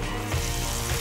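Dense, steady sizzling and crackling of olive oil frying in a hot pan, close and fairly loud, with no talking.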